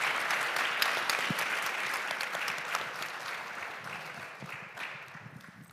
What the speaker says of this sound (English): Please join me in giving a huge round of applause to our panel.